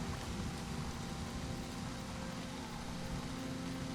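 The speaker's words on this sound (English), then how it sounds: "as you can see, it's raining." Rain in the video game Season: A Letter to the Future: a steady, even hiss of falling rain with a low rumble beneath, constant and fairly quiet throughout.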